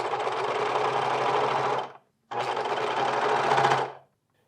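A sewing machine top-stitches men's pants in two loud, steady runs of rapid mechanical whirring, each about two seconds long, separated by a brief stop.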